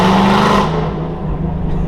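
A Ford car engine revs loudly at a city traffic light, the roar swelling and then settling into a lower rumble, echoing off the surrounding walls at close range.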